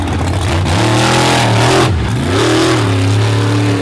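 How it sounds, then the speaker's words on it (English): Ram Trucks Raminator monster truck with a 572 cubic inch Keith Black Hemi roaring loud and close at a freestyle event, its engine rising and falling in pitch through a couple of hard revs. "Nice start right there with that big 572 cubic inch Keith Black Hemi."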